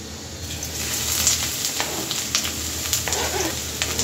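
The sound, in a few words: chopped onions sizzling as they are added to hot oil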